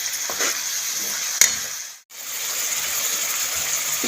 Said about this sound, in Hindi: 5 से 10 मिनट अच्छे से भुनाई कर लेंगे।